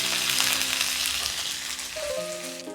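Curry leaves and two dried red chillies sizzle steadily in hot oil, a close, continuous crackle with no one talking over it and a faint tonal hum toward the end.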